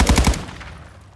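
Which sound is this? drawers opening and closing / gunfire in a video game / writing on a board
gunfire in a video game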